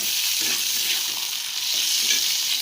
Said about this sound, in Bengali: এবার দিয়ে রাখলাম আগের থেকে ম্যারিনেট করা লেবু দিয়ে মাংস